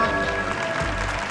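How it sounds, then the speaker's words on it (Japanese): A crowd gives a big round of applause at Hiroshima's Edion Stadium, a dense, steady wash of clapping that fills the space and holds at an even level without speech on top. "大きな拍手。"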